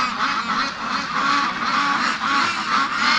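A crowd of penned free-range farm ducks honks and quacks continuously, a dense, loud, overlapping chorus close by with no pauses.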